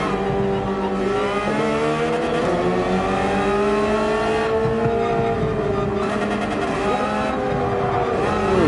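A Porsche 911 GT3 races around Mount Panorama in Gran Turismo 7, its engine howling loud and close throughout, rising and falling in pitch as it revs through gears with a brief lift off the throttle midway.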